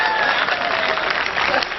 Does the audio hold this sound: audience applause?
yes